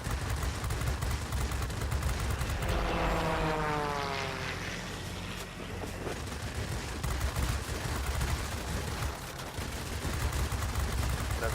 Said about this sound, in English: I'm trying to hit the rear gunner if I can. Obviously he's still firing.